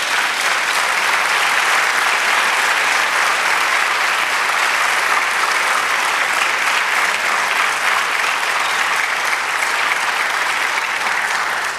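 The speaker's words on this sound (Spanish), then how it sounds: "Dale aplauso al Señor." A church congregation applauds during a Spanish-language sermon, a dense, steady wash of clapping from many hands that continues evenly for about twelve seconds without speech.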